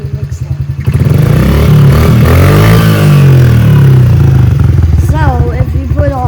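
Stock Honda CRF50 dirt bike with its factory exhaust, a small single-cylinder engine idling and revving loud and close for several seconds, with a voice talking over it near the end.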